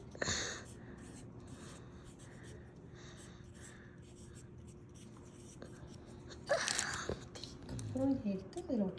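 A pen scratches out a short turmeric label in a kitchen, a soft continuous scribbling close by, followed by brief rustling and handling noises.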